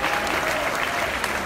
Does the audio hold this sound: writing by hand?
no